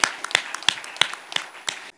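A church congregation claps together in a steady, lively rhythm of sharp, evenly spaced hand claps, loud and close, with no talking over them.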